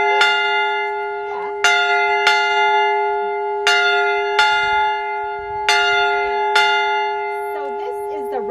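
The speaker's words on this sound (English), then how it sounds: "when you heard that bell ring, you knew another family or another person had arrived here in freedom" A replica of Buxton's historic freedom church bell, modelled on an 1858 church original, rings out in loud, resonant strikes about every second with long overlapping decay, close by, with brief voices in the background.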